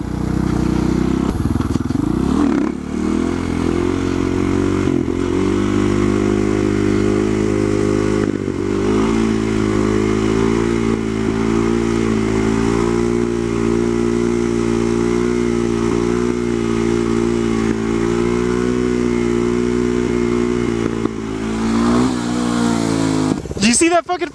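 A Husqvarna-style SM610 supermoto motorcycle held in a long slow wheelie, its engine droning steadily and loudly at close range with a sustained harmonic hum, briefly dipping then rising again near the end.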